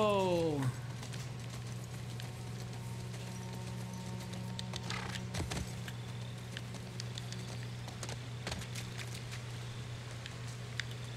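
Hooves clip-clop steadily as a horse moves along in The Last of Us Part 2 video game, heard faintly under a continuous low hum and game ambience.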